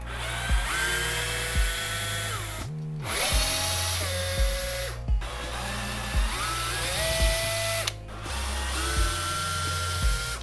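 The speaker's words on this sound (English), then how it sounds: "So all we need to do is just get the drill, and then hopefully these will come out." A power drill backs screws out of a desk's drawer unit in a series of loud, close whirring bursts that rise and fall in pitch, separated by brief pauses, with no talking.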